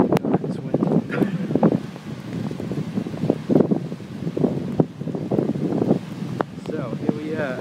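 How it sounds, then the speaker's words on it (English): Strong, gusty wind buffets the microphone on a snowy beach, roaring in uneven surges with faint surf behind, while a voice speaks over it. "Oh God, it's windy."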